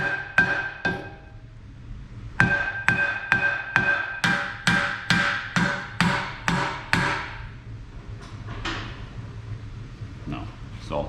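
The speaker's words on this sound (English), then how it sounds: "we're gonna have to pound on that a little bit" A hammer pounds on the brake rotor of a BMW 335i, two quick strikes and then a steady run of about ten loud, evenly spaced metallic blows, followed by a few lighter taps.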